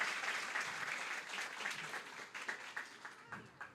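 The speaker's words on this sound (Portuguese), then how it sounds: "queremos que vocês recebam com uma salva de palmas" A church audience applauds to welcome a couple, a steady wash of many hands clapping that is fairly faint and distant and thins toward the end into scattered claps.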